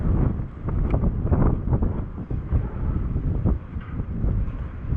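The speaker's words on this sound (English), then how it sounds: "the wind is getting really brutal." Strong wind buffets the microphone outdoors in continuous heavy rumbling gusts that stay loud throughout, with no speech.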